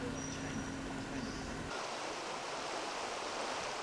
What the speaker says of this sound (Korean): 숲속에 흐르는 개울물